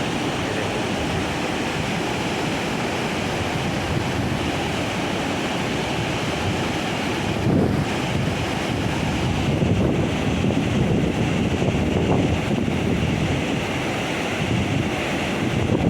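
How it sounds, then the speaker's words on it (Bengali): Water spilling over the Baharampur dam like a waterfall, a steady broadband roar with gusts of wind noise, continuous and fairly loud throughout with no speech. "এবার ঝর্ণার মতন পড়ছে ঝর্ণা"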